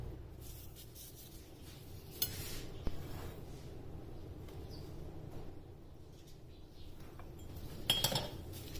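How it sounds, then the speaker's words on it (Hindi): Freshly baked mushroom pizza cut on a tray, giving quiet scraping and occasional metallic clinks and taps from the cutter over a low background hum, with no voices present. "ऑलिव ऑयल लगाने के बाद अब इसकी कटिंग कर लेनी है।"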